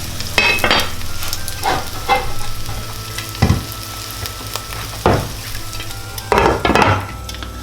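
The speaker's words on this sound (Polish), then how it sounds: "teraz na małym ogniu, jak już się rozgrzało, pod przykryciem się piecze" An oat omelette fries in a covered pan on low heat, with a soft, continuous sizzle broken by several sharp clinks and scrapes of a utensil against the pan.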